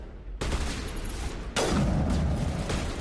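An infinite-ammo energy sniper rifle in Mass Effect fires two loud, sharp blasts, each followed by a ringing, crackling tail.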